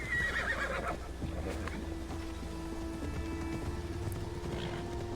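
Horse whinnying in Assassin's Creed Odyssey, a loud, close neigh at the start followed by hoof clops and a soft, rain-like wash under steady low game ambience.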